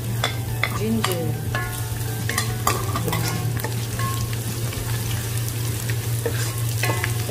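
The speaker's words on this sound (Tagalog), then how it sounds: "Magsisimula ng maluto ang ating bawang. Ngayon, pwede na natin ilagay ang ating ginger." Garlic and ginger fry in a pan, sizzling steadily and close up while a spoon stirs and scrapes with intermittent clinks.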